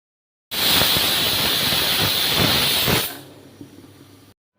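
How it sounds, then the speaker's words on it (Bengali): A loud, steady hiss of steam bursts from a pressure cooker whistle while cooking biryani for about two and a half seconds, then drops to a quieter fading hiss before stopping. "আমি পানি দিয়ে প্রেশার কুকারটা আটকিয়ে দিয়েছি একটা সিটি দিলেই অবশ্য রান্না হয়ে যাবে"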